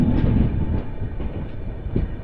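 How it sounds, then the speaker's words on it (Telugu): A train hauled by an Alco locomotive rolls into a railway station, a heavy, low, continuous rumble with faint rhythmic knocks, fairly loud and without voices. "ఆల్కోతో ఒక ట్రైన్ వస్తుంది"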